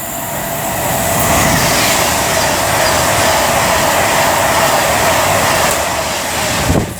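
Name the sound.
train passing through station on West Coast Main Line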